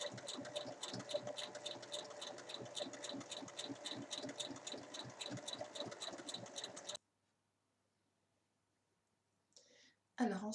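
A sewing machine runs in a steady, rapid rhythm for about seven seconds while topstitching fabric 1 mm from the edge, then stops to silence, followed by brief faint handling noises.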